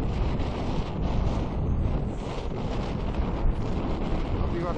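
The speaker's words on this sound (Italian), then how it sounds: "Si sta alzando il vento, come prevedevo." Strong wind gusts at a mountain campsite with a High Peak Monodome tent, a continuous loud roar buffeting the microphone throughout.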